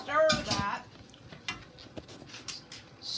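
A spoon stirs vegetable rice soup in a pot, giving soft scrapes and light clinks against the side, with a brief voice at the start and quieter stirring afterward.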